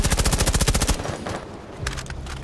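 Rapid automatic gunfire in the video game Rainbow Six Siege, a dense burst of shots for about a second, followed by scattered softer shots and impacts.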